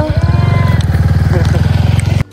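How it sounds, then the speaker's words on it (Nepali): A scooter engine putters steadily at close range with a rapid, even pulsing rhythm, then cuts off abruptly at the end. "मैले स्कुटर चलाउँदैछु"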